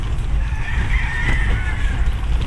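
A rooster crows in a rural roadside setting in Majayjay, Laguna, a drawn-out call heard at moderate distance over a heavy low rumble of wind or traffic.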